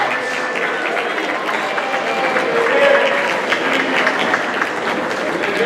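A large audience at a high school awards night applauds steadily for several seconds, dense clapping filling the room with a murmur of crowd voices mixed in.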